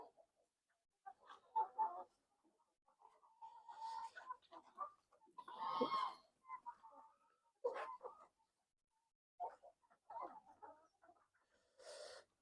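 Several Rhode Island Red laying hens cluck and squawk in short, scattered bursts at close range, with one louder, drawn-out cackle in the middle and quiet gaps between calls.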